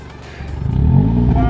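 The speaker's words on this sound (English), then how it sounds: "I'm going to give you a little demo of what that sounds like with the 4 exhausts." Volkswagen Golf R with a quad-pipe exhaust and the resonator removed revs up, a deep engine roar swelling in volume and holding high, close by.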